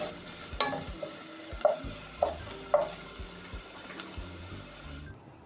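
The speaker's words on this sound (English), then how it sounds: "Then I will stir and fry for some minutes or until the onions become translucent." Chopped spring onions and purple onions stir-frying in a pan, with a soft sizzle under irregular scraping strokes of a utensil, five or six distinct knocks spread across the moment, close and moderately quiet.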